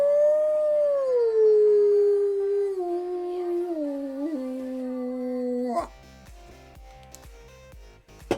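A person gives a long, loud wolf-like howl with a voice imitating a wolf, rising then sliding down in steady pitch for about six seconds, followed by quieter background sounds.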